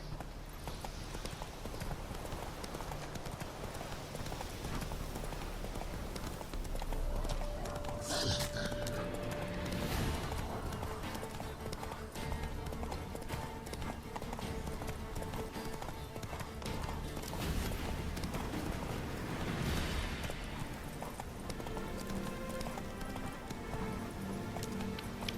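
Roach the horse galloping in The Witcher 3 during the Hearts of Stone expansion, hooves clip-clopping in a steady running rhythm with a brief whinny, over game music and ambience and occasional talk.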